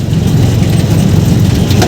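A car engine strains as it labours along an unpaved dirt track, a steady loud low rumble filling the whole stretch with no voices over it.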